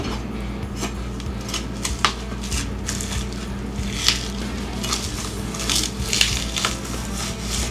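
Knife working through a ribeye steak on a board, with repeated soft crunching and sticky squishing strokes at close range, occasional sharper clicks of the blade hitting the surface, no talking.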